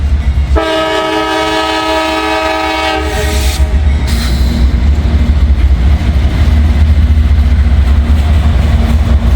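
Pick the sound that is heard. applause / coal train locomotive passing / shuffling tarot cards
coal train locomotive passing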